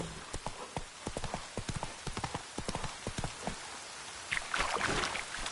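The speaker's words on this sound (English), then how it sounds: "Whoa there, Roach." Horse hooves clip-clop across the ground in The Witcher 3, a fast uneven run of sharp hoofbeats close up, with a brief rush of noise near the end.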